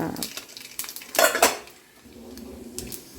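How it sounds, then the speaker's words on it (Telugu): Tempering spices for cooked dal in a home kitchen: metal utensils and pots clatter and scrape in short bursts, with a brief louder clash midway, close by and with no talking. "పప్పు ఉడికింది కాబట్టి పోపేస్తున్నా"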